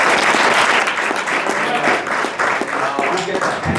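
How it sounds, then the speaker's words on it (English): An audience applauding to welcome a speaker, with loud, continuous clapping throughout and voices audible under the applause. "Big round of applause, guys."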